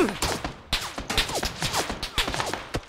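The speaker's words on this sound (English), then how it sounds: "They're shooting at us on the hill." Gunfire in PlayerUnknown's Battlegrounds sounds as a rapid string of sharp cracks and bursts, loud and irregular over about three seconds.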